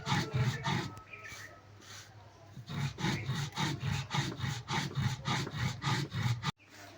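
Jaljira spices and salt are ground into fine powder with rhythmic scraping and grinding strokes, loud and close, pausing briefly midway before resuming in steady repeated passes.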